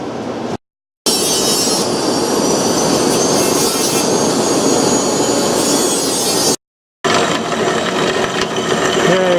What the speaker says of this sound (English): we'll grind this off here so it's nice and smooth and fits through the